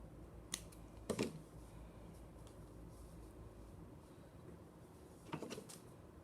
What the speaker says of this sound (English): You want to use the tip of your scissors for this.